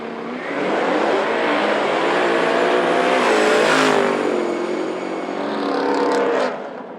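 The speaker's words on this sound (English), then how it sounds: "the G8 struggles to gain traction, leaving the line" Streetcar-class drag racing cars, including a G8, launching off the line at Knoxville Dragway, a loud roaring engine that rises and sweeps past with rising pitch, then fades near the end.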